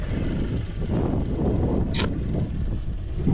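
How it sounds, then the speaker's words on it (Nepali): Strong wind in Marpha village, Mustang, heard as loud, constant buffeting rumble on the microphone throughout, with a brief high squeak in the middle and no talking. "अति नै दामी हावा चलाएको छ फेरि त्यस्तै"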